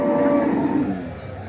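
A calf at the Punganur weekly calf market gives one loud, close, drawn-out moo that fades toward the end.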